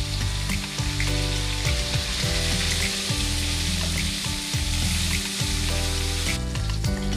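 Aar catfish pieces turned over and frying on the other side in hot mustard oil in a wok, a loud continuous sizzle with dense crackling pops close by.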